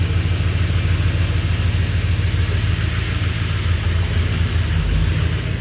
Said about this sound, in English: It's actually jumping in and out of gear while sitting still.